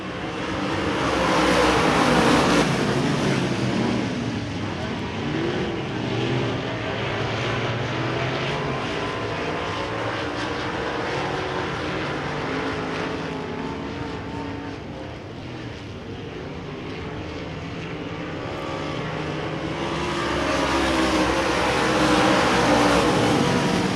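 A field of race cars roars off the start at Devil's Bowl Speedway, a loud, continuous engine drone with rising and falling pitch as the pack accelerates together, sustained for the full stretch.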